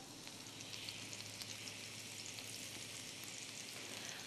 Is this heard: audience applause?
no